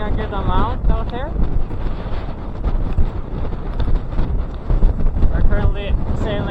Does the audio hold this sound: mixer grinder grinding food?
no